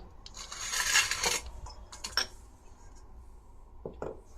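Long green chillies, slit down the middle, being tossed with salt and baking soda in a bowl, giving quiet, intermittent clinks, taps and scrapes with short bursts of clatter.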